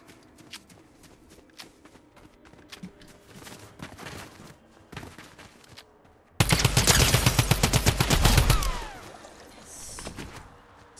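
Rapid drum gun bursts in a video game, a loud dense stretch of gunfire that erupts mid-clip and lasts about two seconds, after quieter scattered shots and footsteps, with a faint later echo.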